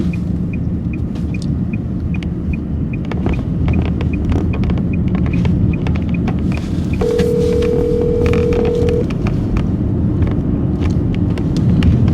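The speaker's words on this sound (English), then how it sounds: "Okay, let me call her." Touch-tone keypad beeps from a phone being dialed, a steady series of short, evenly spaced tones over constant low car rumble, with no talking.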